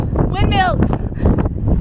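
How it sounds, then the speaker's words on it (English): Strong wind buffets the microphone with a loud, low roar throughout on the Pacific Crest Trail near windmills while hikers talk over it. "Oh my God, it's so windy."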